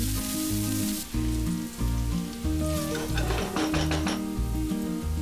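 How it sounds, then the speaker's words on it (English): Sliced onion frying in hot oil in a pan, a steady loud sizzle running throughout with a dense crackling texture, accompanied by a continuous tonal background. "in a hot pan add oil, add 1 onion sliced, and fry it until the onion is nice and light brown"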